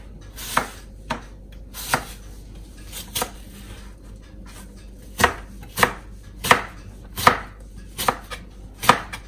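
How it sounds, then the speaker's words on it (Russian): A knife slices an apple into thin strips on a cutting board in a home kitchen, about a dozen crisp irregular chops with short pauses between them, close and clear against quiet background. "Вот сейчас нарезаем соломкой."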